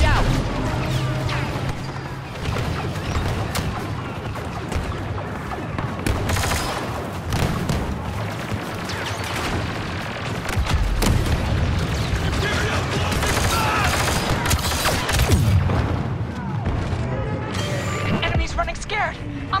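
Grenade blasts and heavy blaster gunfire in a Star Wars Battlefront II battle on Hoth, loud and dense throughout with repeated booms and rapid fire, with voices calling out over the combat.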